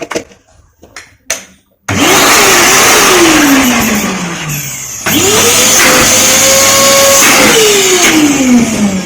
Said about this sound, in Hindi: चलिए अब वैक्यूम क्लीनर को पावर सप्लाई देते हैं।